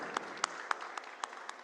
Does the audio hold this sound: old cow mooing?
no